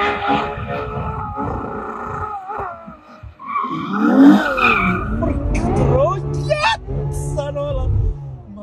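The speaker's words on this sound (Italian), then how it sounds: "le gomme si sentono" Tyres of a Ferrari 812 Superfast squealing and skidding under hard driving, a harsh wavering screech rising and falling over several seconds above a loud engine roar, with voices exclaiming from inside the car.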